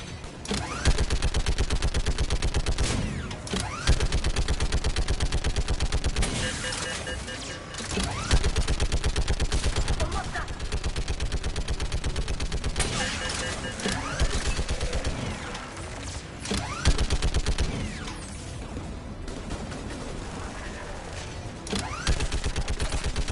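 Sustained turret gunfire from the video game Mass Effect, rapid and loud bursts rattling steadily for the whole stretch with occasional booms mixed in and no break in the shooting.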